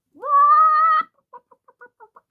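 A voice imitates a chicken, starting with one long drawn-out squawk and then giving six short clucks in a quick, uneven rhythm, loud and close against silence.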